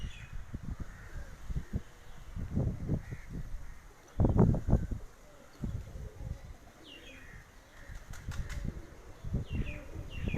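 Pigeons flying from a rooftop, wings flapping in repeated bursts of soft thumps and flutters, a louder cluster near the middle, with a few distant bird calls in the background and no talking.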